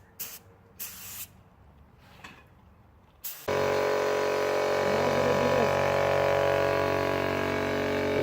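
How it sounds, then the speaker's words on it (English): A paint spray gun fires at a car body during a DIY paint job on an S13 drift build, short bursts of hiss followed by a long, loud continuous spray. "change the fan pattern on the spray gun."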